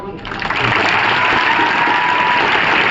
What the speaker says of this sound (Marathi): अशाच टाळ्या वाजल्या त्यावेळी